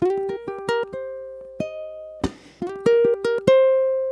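A plucked ukulele plays a short blues rock riff of quick repeated notes and held tones, broken once by a percussive strum, then resuming.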